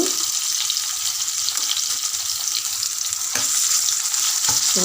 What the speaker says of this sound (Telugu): మంచిగా మగ్గం ఇవ్వాలి అల్లం వెల్లిపాయ పేస్ట్ పచ్చి వాసన పోవాలి